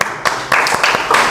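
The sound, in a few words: applause for the presenters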